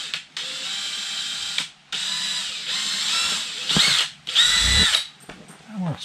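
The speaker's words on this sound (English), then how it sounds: "I decided I think I'm going to try to drill through before I cut the big hole." A power drill bores through the canvas wall of a White Duck Avalon bell tent, running in several close bursts separated by short pauses, with a ratcheting mechanical whir near the microphone.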